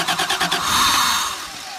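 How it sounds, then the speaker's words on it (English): A 1990 Toyota engine cranks after a spark plug and distributor replacement, several rhythmic starter pulses then catching into a close, loud idle that settles and fades slightly. "I think we're going to start her up now and just hear how she runs for a second"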